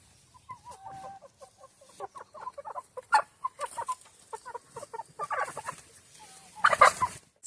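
Chickens cluck and chatter repeatedly close by, a busy flock kept inside a net enclosure, with overlapping short calls and a few louder squawks near the end.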